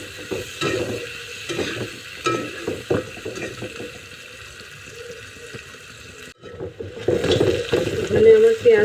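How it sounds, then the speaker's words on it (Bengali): Onions frying in a pan while being stirred until brown for a chicken recipe, a steady sizzle with scraping and clattering stir strokes that grows louder and hissier toward the end. "এটাকে ভালো করে ফ্রাই করব আমরা, যতক্ষণ না ব্রাউন হচ্ছে ততক্ষণ ফ্রাই করবেন"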